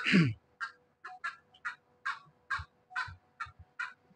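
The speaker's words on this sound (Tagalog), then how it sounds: "Kanay na ang kakakakak ng isang manok natin." A hen cackles in a series of sharp, evenly spaced clucks, about a dozen in a row, loud and close with no other sounds.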